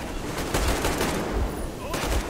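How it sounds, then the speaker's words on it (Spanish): A short burst of dense gunfire from the video game Metro Exodus, several loud rapid shots rolling together in a continuous fusillade. "Tío, es que me han pegado dos tiros"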